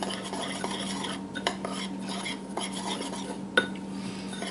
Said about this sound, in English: We're just going to give this a really good mix